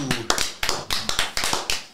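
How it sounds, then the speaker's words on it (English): Two-finger claps snap out in a steady, quick rhythm, about eight sharp, dry taps in two seconds, close and bright, each one decaying fast before the next. "Another two-finger clap, did you ever do that?"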